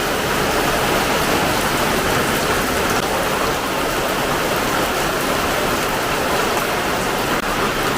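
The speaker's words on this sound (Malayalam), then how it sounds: "ഇപ്പം ദേ എല്ലാം പോയി മൂടി കെട്ടി മഴ." Steady rain falls at night during a low-pressure spell, a dense even hiss of drops on surfaces filling the whole stretch without a break, loud and close, with no voices.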